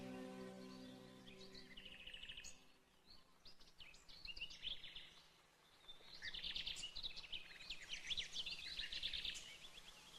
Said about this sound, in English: Especially one whose song is considered the most beautiful in the land, the nightingale.